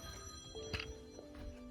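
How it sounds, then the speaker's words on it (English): A telephone rings with a short electronic trill, a single bell-like burst heard close and clear over a steady background hum. "I got a phone call"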